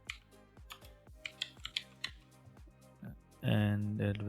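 Keys tapped one by one on a computer keyboard while a username is entered, a string of about a dozen crisp, close clicks in an uneven rhythm, followed by a voice speaking at the end.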